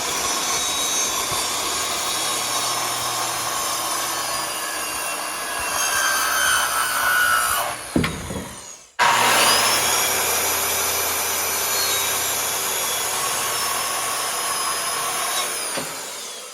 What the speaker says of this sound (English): I'm about to cut this end off, and then I'm gonna cut this line to create the bottom of that tenon.